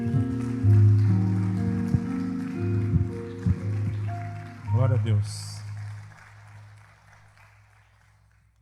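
A church congregation applauds in praise during a service, broadband clapping swelling near the start and fading out over several seconds, with a voice speaking over it.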